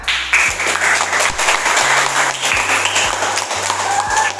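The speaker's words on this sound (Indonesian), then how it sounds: "kasih tepuk tangan" A class of students applauds a classmate's correct answer, a loud, sustained burst of many hands clapping steadily, with a low hum running underneath.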